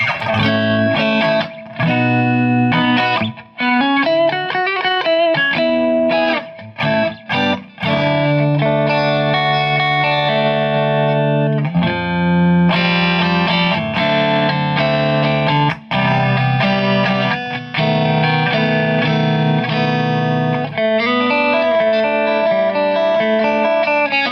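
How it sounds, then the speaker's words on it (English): An electric guitar runs through the spring reverb setting of an Electro-Harmonix Oceans 3-Verb pedal, with chords and melodic phrases lingering in a subtle wash. It plays loud and continuous for about twenty-four seconds, broken by brief pauses. "Let's go to spring reverb setting."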